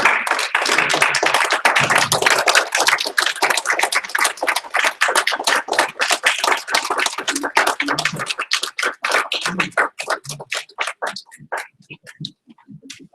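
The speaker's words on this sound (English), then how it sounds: "Clap." Audience at a Livingston city commission meeting clapping for an award to a commissioner, a dense burst of hand claps that thins into scattered, separate claps before fading out.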